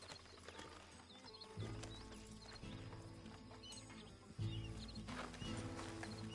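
Horse hooves clip-clop in a steady, rhythmic gait in the video game Red Dead Redemption 2, moderately loud, with a low rumbling background and no speech.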